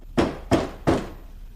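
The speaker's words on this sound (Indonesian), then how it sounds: "terdengar suara ketukan pintu" Three heavy knocks on a door, evenly spaced and close, each a dull thud with a brief ring, then silence.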